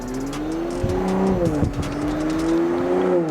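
A Toyota MKV Supra drives with its windows rolled down, a loud continuous rush of engine drone and low wind throb filling the cabin with steady, slightly wavering pitch.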